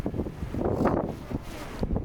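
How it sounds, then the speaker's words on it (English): Strong snowstorm wind roars around a DJI Mini 4 Pro drone in flight, a steady broadband rush that swells and fades in gusts, with no voices. "that Mini 4 Pro trying to negotiate that wind"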